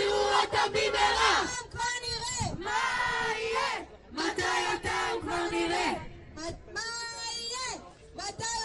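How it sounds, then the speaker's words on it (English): A large protest crowd in Tel Aviv chants and shouts in loud rhythmic bursts, many voices rising together in repeated slogans with brief pauses between, close and forceful. "We're in the middle of a protest here in Tel Aviv where all of these people are asking for a full prisoner deal."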